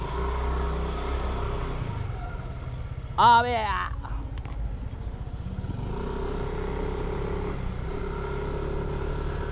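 Motorcycle engine idling steadily just after refuelling with gasoline, a constant low rumble throughout with a brief louder mechanical whine or horn-like tone partway through, while someone briefly speaks.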